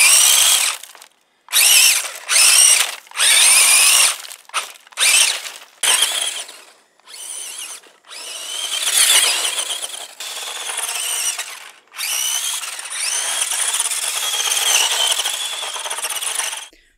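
Grave Digger Trax RC monster truck whirring in loud electric-motor bursts, short stop-start runs at first, then longer sustained driving with fluctuating pitch.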